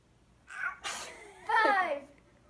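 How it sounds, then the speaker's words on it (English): A child gives a sharp, close sneeze with a quick inhaled build-up, followed by a brief burst of voiced sound, in a quiet indoor morning setting. "did you hear the crunch sneeze"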